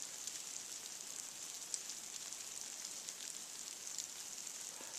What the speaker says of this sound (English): the ice is melting off the trees, so it's dripping everywhere as I run